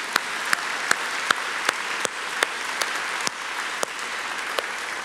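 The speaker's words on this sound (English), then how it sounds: "give all the other game changers a real round of applause." At an award event honoring game changers, an audience applauds with a steady, moderate wash of clapping, punctuated by distinct sharp claps at a regular pace throughout.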